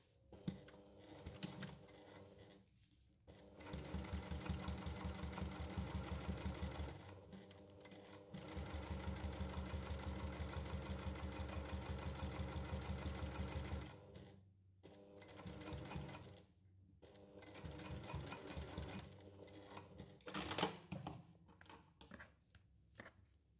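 A sewing machine runs long basting stitches at a 5.5 stitch length, whirring steadily in several long bursts with short pauses between them, close and clear with no talking.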